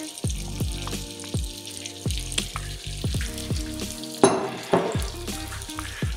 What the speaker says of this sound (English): Then I'm going to go in with my palm oil now, okay? I'm going to put this lot in.